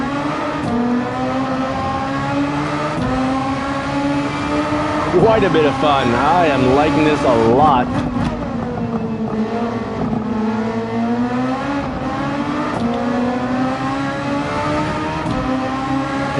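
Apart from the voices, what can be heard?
F1 race car engine revving, from a racing video game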